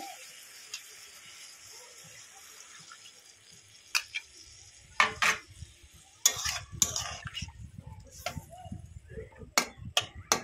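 Mustard paste and water going into a radish and potato curry in a pan, with soft sizzling, then a spoon stirring and tapping against the pan in scattered clinks and scrapes.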